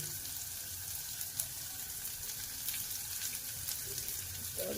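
Curry leaves and onion frying in hot oil in a home kitchen, a soft continuous sizzle and crackle at low level with a few faint clinks, no talking over it.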